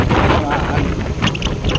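Strong typhoon wind from Typhoon Nando roars steadily across an open area near flooded rice fields in Abulug, Cagayan, with a continuous low rumble and buffeting gusts over the microphone.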